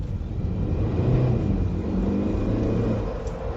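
A hybrid car's engine rumbles steadily and swells slightly as the vehicle picks up speed in city driving, heard from inside the cabin with no talking.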